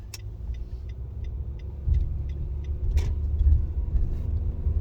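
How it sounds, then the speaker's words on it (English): Traffic rolling past outside, a low continuous rumble of cars and heavier vehicles that swells as they pass, with faint high clicks and a brief sharp hiss. "Get distracted by damn cars."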